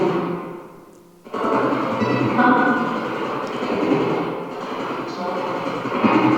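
Portal spirit box sweeping through radio stations, a continuous rough broadband hiss and rumble with shifting choppy texture, rising abruptly after a brief quieter moment and staying loud throughout, heard alone.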